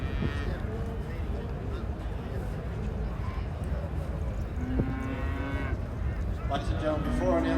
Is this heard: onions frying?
no